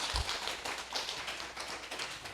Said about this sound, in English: Let's give Carol and Richard a big round of applause.